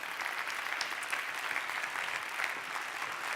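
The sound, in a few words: audience applause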